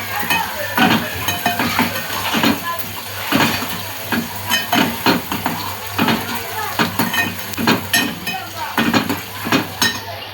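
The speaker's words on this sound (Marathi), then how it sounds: "कांदा मस्त असा भाजून घ्यायचा आहे" Onion frying in a pan, with continuous sizzling and regular scraping stirs of a metal spoon against the pan, close and fairly loud.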